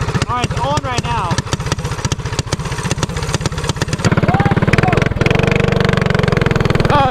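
Small petrol go-kart engine after choke and clutch adjustment, a close, loud putter of rapid regular firing pulses that speeds up and steadies into a higher, denser run.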